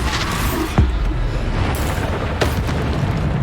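Bombarda spell blasts in Hogwarts Legacy, two deep booming impacts about a second and a half apart over continuous rumbling combat noise.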